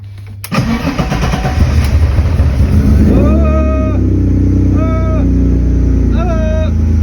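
A BMW E30 track car engine cranks and catches, then idles loudly close by with several quick revs rising and falling over the steady rumble.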